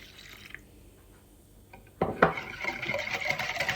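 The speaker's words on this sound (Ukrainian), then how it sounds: "Все гарненько збиваю і додаю 300 мл молока" Milk, 300 ml of it, is poured into a whisked batter for garlic pampushky in a home kitchen, a sudden liquid splash and steady pouring trickle following a quiet stretch, close and moderately loud.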